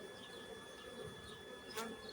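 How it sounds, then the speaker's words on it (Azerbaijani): Honeybees at drone-rearing hives, stirred up on a cold day, buzz in a steady, dense drone throughout, with a brief louder swell near the end. "arıları biraz narahat elədim bu soyuq günlərdə"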